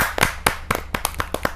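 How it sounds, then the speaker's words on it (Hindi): Hand claps welcome a poet at a Hindi poetry gathering: about ten distinct, sharp claps in an uneven rhythm, close and fairly loud, with no talking. "मैं जोरदार तालियों के साथ डॉक्टर बलजीत कौर तन्हा जी का हार्दिक स्वागत करता हूं।"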